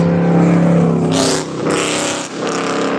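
Loud car engine, apparently needing a muffler change, droning and revving close by with a harsh, rough tone that dips briefly before swelling again, with no talk over it.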